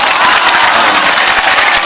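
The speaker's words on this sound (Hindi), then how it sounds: "अब आप जरा सा ताली बजा के बताओ," Dense, loud applause with some cheering sweeps through a mushaira audience gathered for Rahat Indori's poetry, a steady wall of clapping close and full throughout.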